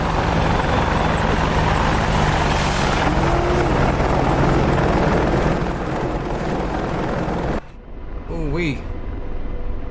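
An AH-64D Apache helicopter in the DCS World flight simulator flies past with a loud, continuous rotor and turbine roar that holds steady for several seconds and then cuts off sharply near the end.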